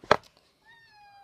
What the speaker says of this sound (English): she just meowed